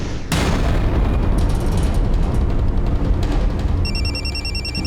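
A telephone rings loudly and steadily in a home setting, its repeating electronic trill layered over a dense, rumbling background hum that persists from start to finish.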